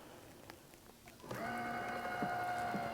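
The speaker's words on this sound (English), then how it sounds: "You can hear the motor is spot locked right now." A faint background murmur gives way to a steady electric motor whine that starts abruptly and hums on evenly, with light splashes of water, as a boat trolling motor holds position on spot lock on flat calm water.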